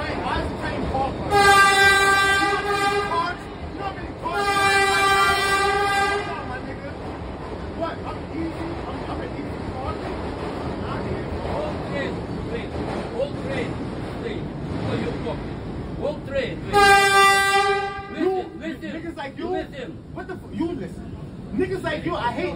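A subway train on the A line rumbles and clatters steadily, its horn sounding in three loud blasts, the first two close together and the third near the end, while people talk over the noise.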